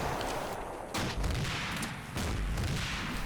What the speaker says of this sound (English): And they begin to fire at the Ukrainians.